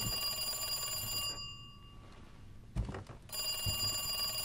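A telephone rings in Resident Evil 2 Remake, a steady electronic ring that stops for about a second and a half, followed by a brief clatter, before the ringing resumes.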